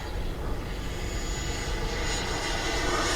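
An FMS Integral 80mm electric ducted fan RC jet flies at half throttle, its steady rushing whine sustained and fairly loud overhead with no break.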